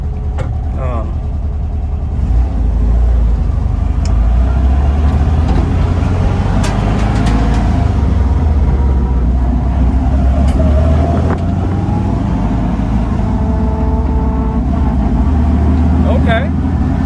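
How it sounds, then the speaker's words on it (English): A 1966 VW Split Bus with dual carburetors and a worn, old-sounding transmission drives along a road, its engine droning loud and steady with a rising gear whine through shifts and rattling cabin noise. "The transmission is sounding like an old transmission."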